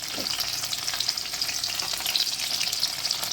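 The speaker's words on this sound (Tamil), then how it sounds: "இது வந்து வதக்குறேன்." Tomato and onion sizzle steadily in hot ghee in a pan, a close, continuous frying hiss with faint stirring scrapes and no talk.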